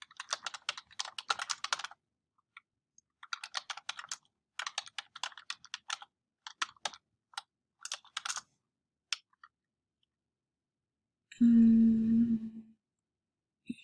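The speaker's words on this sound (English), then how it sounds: "So I'll just type it out here." Someone types on a computer keyboard in quick bursts of close, crisp key clicks separated by pauses, followed near the end by a short loud electronic buzz.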